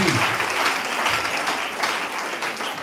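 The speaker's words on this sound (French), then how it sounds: "Est-ce qu'on peut acclamer un grand intellectuel en plus?" An audience applauds a speaker at a gathering, dense sustained clapping from many hands, loud and even throughout with no voices standing out.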